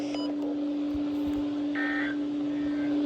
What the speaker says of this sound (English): this has been a test of the NOAA Weather Radio Warning Alarm and EAS signal